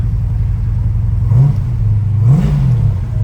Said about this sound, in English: So I'm just gonna hit the key. No gas or anything, fires right up.